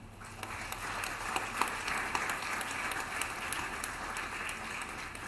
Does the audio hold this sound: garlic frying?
no